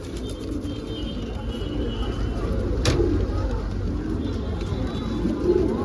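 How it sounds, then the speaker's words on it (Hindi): Pigeons of Saharanpuri, Rampuri and Punjabi kalsire breeds coo in a loft nearby, soft low throaty calls repeating over a constant background hum, with one sharp click partway through. "कबूतरी है"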